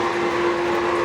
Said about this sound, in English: that's a GS4 whistle right there.